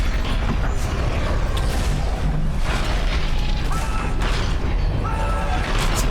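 Booming, crashing blasts from the sci-fi horror game Dead Space Remake, a dense, loud roar of explosions and debris rumbling continuously over a few seconds.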